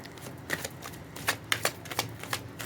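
Oracle cards being handled and shuffled, a run of quick papery riffles and flicks in short close bursts, several strokes over a few seconds with no talk.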